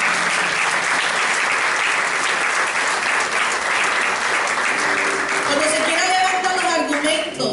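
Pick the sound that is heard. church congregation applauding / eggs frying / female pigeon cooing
church congregation applauding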